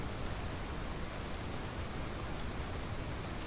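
Steady rain in the Path of Titans world, a dense, even hiss of rainfall with no breaks, heard alone at a soft level.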